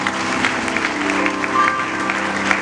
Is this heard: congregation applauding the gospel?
yes